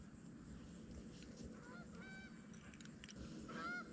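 A flock of geese honks in flight, faint and distant at first and swelling closer, with repeated overlapping calls over steady outdoor field noise.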